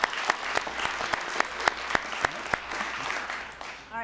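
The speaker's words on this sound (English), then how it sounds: "So let's give everyone a round of applause." Steady applause for students at a school board meeting, a crowd clapping evenly with sharper individual claps standing out, fading slightly toward the end.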